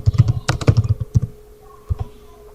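Quick bursts of keystrokes on a computer keyboard while entering text in MS Word, a tight cluster of taps, a pause, then a couple more isolated presses, close and clear with no talk.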